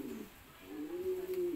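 A fancy pigeon coos softly, a low drawn-out murmur that swells in the latter half, close by against a quiet room tone.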